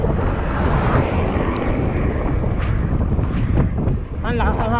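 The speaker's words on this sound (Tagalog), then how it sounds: "Ang lakas ng hangin dito." Strong wind buffets the microphone continuously during a fast-moving road trip in the northern Philippines, a loud, steady roar that fills the whole clip.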